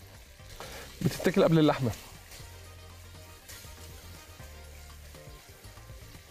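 Onions fry in hot oil in a pan, giving a steady low sizzle that flares briefly as they are stirred, while someone talks over it.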